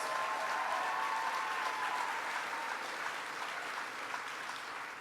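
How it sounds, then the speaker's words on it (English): Sustained audience applause at a Texas Youth Summit event in Montgomery County, a dense, steady wash of many hands clapping that fills the room and slowly tapers, with no voices over it. "Let's give Kimberly Guilfoyle a round of applause"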